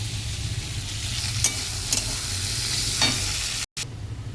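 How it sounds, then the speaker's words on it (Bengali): Nigella seeds, garlic paste and green chilli frying in oil in a kadai, a steady hiss with a few brief clinks, then a sudden short dropout near the end. "দেখো কড়াইতে তেল দিয়ে দিয়েছি, কালো জিরে দিয়ে দিয়েছি, রসুন বাটা আর কাঁচা লঙ্কা"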